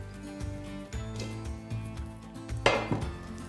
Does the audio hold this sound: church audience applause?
no